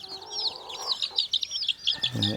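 Several free-range country chickens, two hens and four roosters, cluck and chatter close by in quick, overlapping bursts, with a brief lower call near the end.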